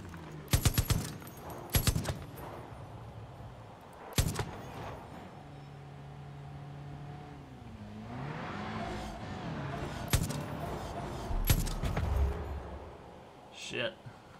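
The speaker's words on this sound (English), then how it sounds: "How you can hear the rounds hit the people." Bursts of gunfire in Far Cry 5, several sharp shots with rounds striking people, spaced across the scene over a vehicle engine hum and game sounds.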